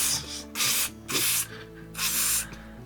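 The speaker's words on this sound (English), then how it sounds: "So I push the top of it and just sprays butter in your hand." Spray-on butter is sprayed into a hand from an aerosol can in four short hissing bursts, each about a third to half a second long, close and fairly loud, with quiet background sound between them.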